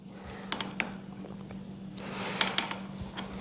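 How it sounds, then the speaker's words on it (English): A wrench tightens a bolt during assembly of a DYU C1 e-bike, giving light metallic clicks and small taps at close range over a steady low electrical hum. "So we'll take our wrench here and just kind of tighten that down."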